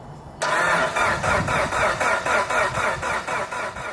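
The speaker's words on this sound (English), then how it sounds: "the EVO was in the mood to crank but not start" A rusty Mitsubishi Lancer Evolution VIII engine cranks over and over in a steady rhythmic churn, close and loud, without catching and starting.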